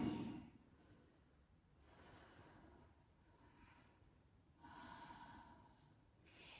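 During a yoga flow, slow, audible breaths come close and soft: a sharp nasal inhale at the start, then long, gentle exhales and inhales rising and fading in a calm rhythm.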